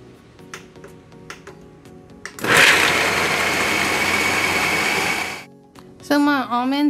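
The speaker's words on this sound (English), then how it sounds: "now we're going to blend this together into a paste." A kitchen blender whirs almonds and cinnamon into a paste, a loud, steady grinding roar for about three seconds, preceded by soft clicks and followed by talking.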